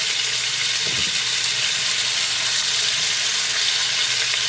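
Meat fries in a hot skillet with a loud, steady, close-up sizzle and crackle filling the whole stretch, with no talk over it.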